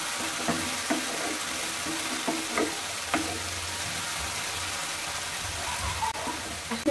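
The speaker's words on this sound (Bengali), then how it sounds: "মশলা খুব ভালোভাবে কষানো হয়ে গেছে" Spice paste for a pabda fish curry frying in oil, a continuous hissing sizzle with a few light knocks of a spoon against the pan early on, fairly close and steady.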